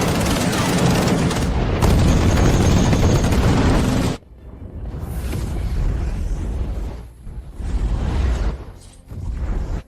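A loud, sustained barrage of gunfire and anti-aircraft fire roars for several seconds, then breaks into shorter booming bursts with brief gaps between them.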